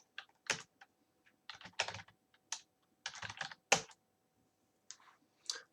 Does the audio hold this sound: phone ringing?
no